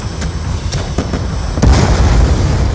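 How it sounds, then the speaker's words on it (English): A blast in the video game Call of Duty: Black Ops 2, a few sharp gunshot-like cracks followed by a heavy booming explosion that rumbles on loudly to the end. "Finally blew that stupid thing up"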